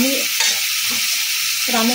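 Spices, chilli powder and torn green chillies sizzle loudly in hot oil in a pan for a pointed gourd curry, with repeated scraping strokes of a spatula stirring the mix.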